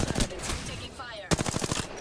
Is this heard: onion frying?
no